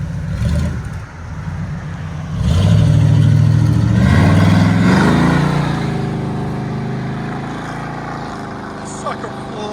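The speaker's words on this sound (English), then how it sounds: "he's got the electric cutouts open now. And he's gonna take it down the road, let us hear it" A 1971 Chevy Chevelle with a 454 big block V8 and electric exhaust cutouts open pulls away on a road, a loud low rumble swelling as it accelerates, then fading into the distance, with voices talking over it.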